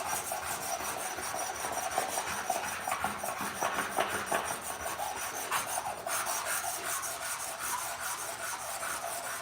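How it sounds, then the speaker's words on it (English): Steady close-up rasping of 220-grit sandpaper rubbing back and forth over a surface to remove deep scratches, continuous and fairly loud with no talking. "So now we'll put 220 down. We want to try to eliminate some of those deep scratches"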